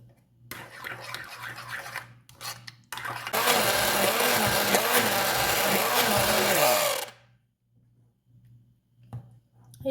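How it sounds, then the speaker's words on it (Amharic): A homemade face cream of rice and milk being mixed in a blender: one loud whirring burst of about four seconds that ends sharply, with quieter handling noises before and after. "አሁን በደንብ አዋህደዋለሁኝ።"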